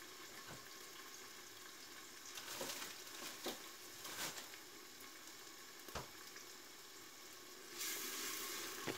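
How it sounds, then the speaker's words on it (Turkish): Chopped onion and tomato paste frying in a pan for a Turkish stuffed vegetable dish, a soft steady sizzle with occasional stirring knocks, fairly quiet and close, no talking. "Soğandan salçasını kavuruyorum."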